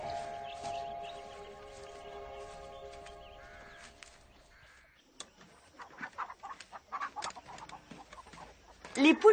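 Chickens cluck faintly in a farmyard, scattered clucks building toward the end after quiet background tones, with people talking nearby.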